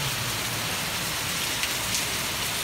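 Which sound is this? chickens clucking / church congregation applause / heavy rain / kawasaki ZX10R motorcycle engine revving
heavy rain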